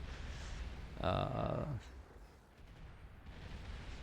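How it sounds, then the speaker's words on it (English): Long-range artillery fire in the Beyond All Reason strategy game, a loud burst of booming shots lasting under a second, with quieter rumbling battle noise before and after. "lots of firing going on, or lots of long range stuff going on"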